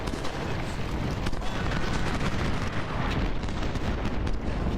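A dense, continuous barrage of musket gunfire and artillery booms rolls on without pause during an Antietam battle in the Civil War strategy game Ultimate General: Civil War.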